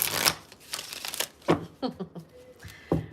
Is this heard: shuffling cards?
yes